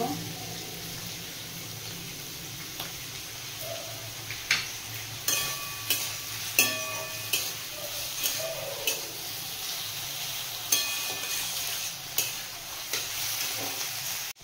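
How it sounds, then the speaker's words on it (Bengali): Paneer pieces frying in a pan after soy sauce is added, with a steady sizzle and regular scraping strokes of a spatula stirring through them, close up and without talk. "সয়া সসটা দেওয়ার পরেও একটু নাড়িয়ে নিয়েছি।"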